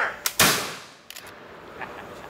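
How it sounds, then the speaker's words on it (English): A single musket fires outdoors at a reenactment: a sharp, loud crack with a brief echoing tail, then a few faint clicks and a distant trailing sound. "did you notice the smoke and noise from the musket?"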